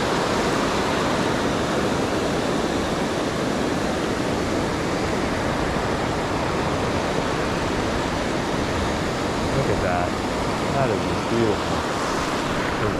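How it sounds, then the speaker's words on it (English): Ocean waves break steadily on a beach at Carlsbad during surf fishing, a loud, continuous wash of surf and foamy roar with wind, filling the whole stretch without talk. "Waves breaking to my left."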